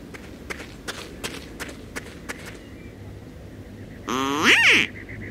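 Ducks in the adventure game Secret Files 2: Puritas Cordis, drawn by a noisemaker, arrive with a run of soft pattering steps followed by a loud, close burst of honking quacks.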